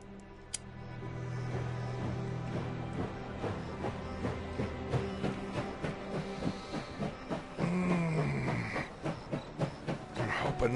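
A steam locomotive pulls out of the station in the survival strategy game Last Train Home, with a sharp steam hiss, a falling whistle-like tone, then steady rhythmic chuffing and clacking that builds as the train gets moving.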